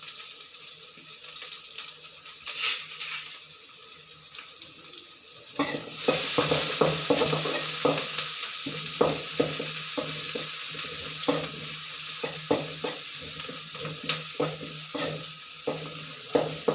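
Garlic cloves frying in a little oil in a pan, a steady close sizzle with repeated scraping stir strokes, starting quieter and then rising to a fuller hiss; no talking.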